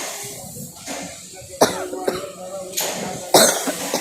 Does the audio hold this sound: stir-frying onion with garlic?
no